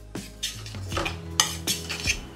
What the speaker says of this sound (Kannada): ಹಾಕ್ಬಿಟ್ಟು ಬಾಣಲಿ ಹಿಂದೆ ಇಟ್ಬಿಟ್ಟು ಇನ್ನೊಂದು ಬಾಣಲಿ ಮುಂದೆ ಇಡಪ್ಪ